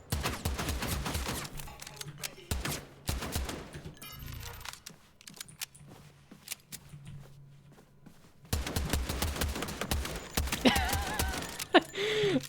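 Bursts of gunfire from a shooter video game, sharp cracks and rapid volleys in two busy stretches with a quieter gap in the middle, plus a few scattered single shots.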